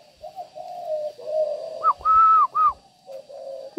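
Spotted dove cooing close by: a young bird's deep, resonant hollow coos, a few drawn-out phrases rising and falling over a steady high background hum, with no talk.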